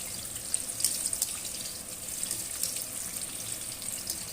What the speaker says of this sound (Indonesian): kalau kita menggoreng terong itu harus menggunakan api yang besar dan minyak yang banyak